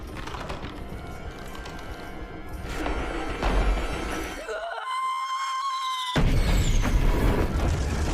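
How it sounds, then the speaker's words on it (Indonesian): A woman's sustained high-pitched scream rises out of a loud, chaotic mix of crashing and rumbling noise, then is swallowed again by the din. "akhirnya ia berteriak"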